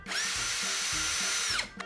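Osuka OCD 701 cordless drill driving a screw into the underside of a table, a steady loud whir that runs nearly two seconds with a rising then falling pitch as the trigger is pressed and released, alone with no talk.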